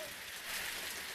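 Heavy rain pours down in a steady, dense hiss that fills the whole moment, with a faint voice in the background.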